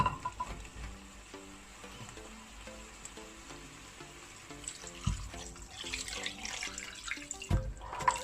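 Water runs and splashes steadily into a pot for several seconds, with a louder gush near the end, over a quiet rhythmic background.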